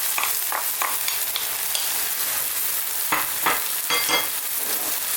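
An onion and tomato mixture for an Indian tofu vegan curry sizzles in a hot pan while being stirred, with steady frying hiss and several sharp scraping strokes of the utensil, close and clear.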